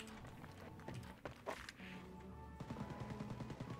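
Gunfire in the game Wolfenstein: Youngblood, a few sharp, punchy shots and impacts over a busy game soundscape, fairly close but moderate in level.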